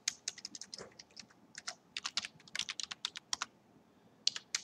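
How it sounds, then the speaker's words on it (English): Fingers type on a computer keyboard at a desk, bursts of quick, crisp key clicks with short pauses between, close and fairly quiet, with no talking. "So I'm going to type in parser equals argparse"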